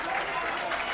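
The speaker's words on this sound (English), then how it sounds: "The audience of the fans of HCAW are clapping with the 2 outs" Baseball fans at a Curaçao Neptunus versus HCAW game clap steadily in the stands with two outs, a moderate, continuous patter of crowd applause with a commentator talking over it.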